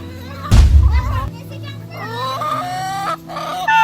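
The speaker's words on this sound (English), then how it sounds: "Creepy, scary chickens. They are so hungry." Hungry backyard chickens cluck and squawk close by while children's voices and laughter mix in, including a sharp loud burst near the start.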